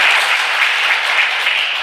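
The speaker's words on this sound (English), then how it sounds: "Can you just clap once?" A workshop audience at a Toastmasters event in Muscat, Oman, bursts into dense, continuous clapping, loud and close, holding steady for the whole short stretch without voices.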